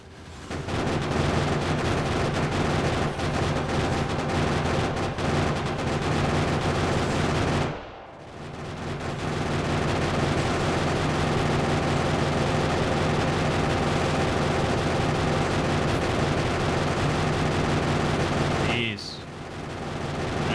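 Gun turrets firing basic ammo at enemies in the game Factorio, a dense, continuous rattle of rapid gunfire lasting nearly the whole stretch with one brief pause, loud and steady.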